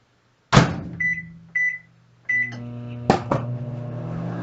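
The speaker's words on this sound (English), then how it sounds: "I'm going to stick it in the microwave and melt it." Microwave oven melting butter: a sharp door clunk, two short keypad beeps, then the door shuts and the oven starts with a steady hum, with another clunk and the hum continuing under it.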